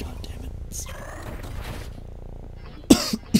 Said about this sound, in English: So I'm gonna cough a little bit.